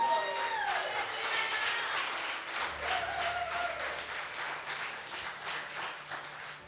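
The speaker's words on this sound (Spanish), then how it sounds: "Date un fuerte aplauso a ti mismo." Church congregation claps in a sustained burst of applause during a service, strong at first and gradually thinning, with some tonal sounds beneath.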